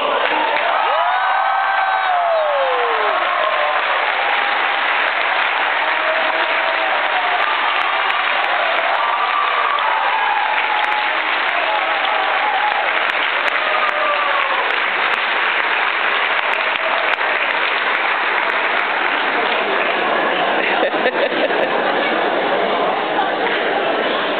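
A large crowd at a Catholic parish gathering for graduating seniors cheers, whoops and applauds loudly and continuously, with voices and shouts mixed through the broad roar.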